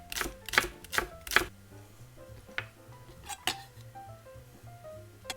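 A knife chops the green part of a green onion on a cutting board: four quick, sharp knocks, then a few scattered lighter taps against a quiet kitchen background.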